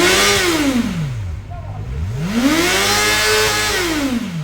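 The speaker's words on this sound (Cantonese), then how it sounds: "大家聽下新款直4嘅引擎聲。" A new Honda CB500SF inline-four motorcycle engine revs close and loud, dropping from a high whine before climbing again in a long rising, wavering sweep.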